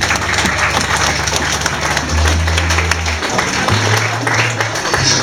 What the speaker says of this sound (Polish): za to im wielkie brawa